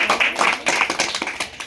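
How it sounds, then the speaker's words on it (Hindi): An audience of men and women at a spoken sermon bursts into brisk, dense clapping nearby, steady and unbroken for a couple of seconds with no voices over it. "जोरदार तालियां हो जाए माता बहनों और भाइयों"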